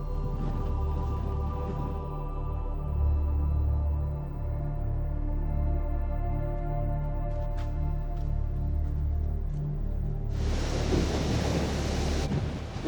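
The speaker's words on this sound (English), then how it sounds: "This wind is too strong. It's blowing me away all the way." Strong wind gusts along the Barcelona shoreline before sunrise, a steady loud rumble of buffeting microphone noise with surf-like roar, swelling harder and louder over the last few seconds.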